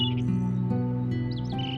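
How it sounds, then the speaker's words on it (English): Faint chirping bird calls, somewhat distant, at a carved stone site in Mexico, over a steady low ambient hum that runs through the whole stretch. "rustling leaves, distant bird calls, soft wind weaving through stone"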